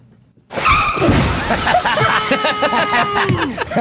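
A car crash sound effect begins abruptly and loud, with a long tire skid and crunching impacts, while people chatter and laugh underneath.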